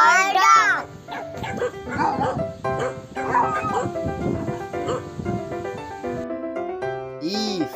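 A dog's barks and yips sound near the start and end of a children's phonics alphabet song, mixed with sung voices and bright music.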